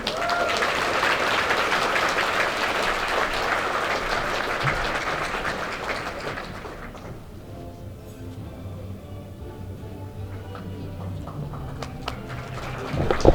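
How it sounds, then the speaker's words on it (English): Applause from a dinner crowd at a business awards ceremony, a dense steady patter of many hands for about seven seconds that then fades into quieter room murmur. "Would you give another round of applause?"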